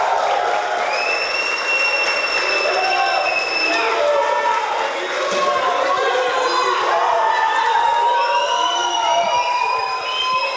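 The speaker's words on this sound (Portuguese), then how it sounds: "aplausos para o David" A cheering crowd at a talk or sermon gathering, with continuous loud applause, whoops and shrill whistles rising over the roar, and voices shouting throughout.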